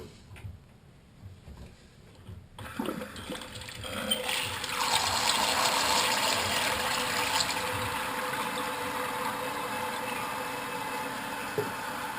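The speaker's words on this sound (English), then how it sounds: "And now we'll turn the water supply back on." Toilet tank refilling after the water supply is turned back on: a quiet start, then a sudden rush of water flowing into the tank that holds steady, with faint ticking near the end.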